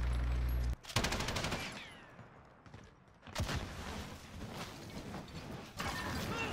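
Bursts of rapid automatic gunfire in the video game Modern Warfare, with a loud stutter of shots, a pause of quieter mechanical sounds, then more sustained firing near the end.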